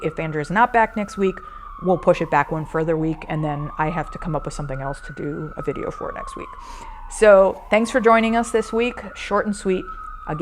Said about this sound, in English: I'm sorry for the siren.